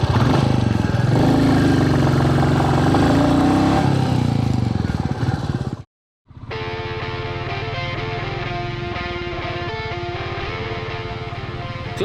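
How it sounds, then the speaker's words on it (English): A 2021 Royal Enfield Classic 350 motorcycle engine runs loud and close with a throaty, pulsing rumble, cuts out for a moment, then returns at a steady idle-like throb. "Now let's just ride this motorcycle out"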